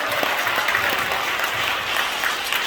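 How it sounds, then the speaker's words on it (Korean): Steady applause from an audience at a press conference held in a church hall, continuous clapping throughout with no speech over it. "여기도 박수 한번 해주시기 바랍니다."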